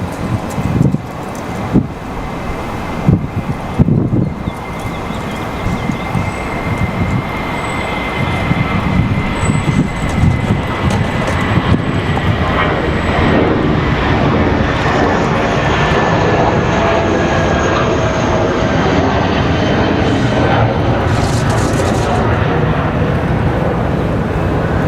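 A JetBlue jet airliner departs Raleigh Durham International on a windy day, its engine roar building into a loud, sustained rumble with gusts buffeting the microphone throughout.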